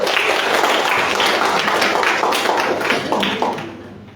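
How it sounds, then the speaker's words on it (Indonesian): Applause from a lecture audience, a class of law students in a civil procedure course: dense, steady clapping from many hands that stays loud, then thins and fades near the end. "Tepuk tangan bersama teman saudara."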